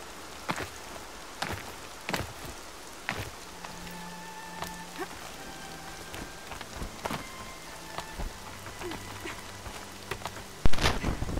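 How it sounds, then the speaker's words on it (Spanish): Rain pattering steadily on surfaces in the video game Horizon Zero Dawn, with scattered louder drops and a sharp crack near the end, while faint tones sound in the background. "Sigue lloviendo. Las botas se me mojan."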